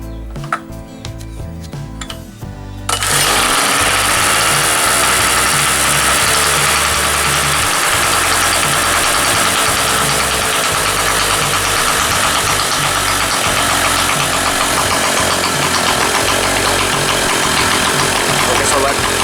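A small two-stroke generator engine with a freshly gapped spark plug, run at middle throttle, starts up after a few seconds of clatter and then drones loudly and steadily nearby, a dense buzzing roar with no break.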